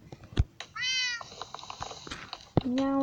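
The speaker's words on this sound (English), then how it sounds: "Meow indeed." A video-game cat in a village trading hall gives two short, clear meows amid soft clicks and game sounds, with no voices.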